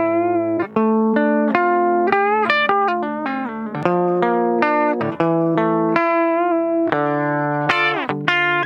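A clean, unprocessed DI electric guitar signal plays a busy run of bright single notes and chords, steady and upfront with no voices.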